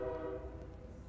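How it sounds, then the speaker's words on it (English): A passing train sounds its horn, a sustained tonal blast with a low rumble beneath, moderately near and steady for just over a second with no talking. "Don't worry, train, we'll wait."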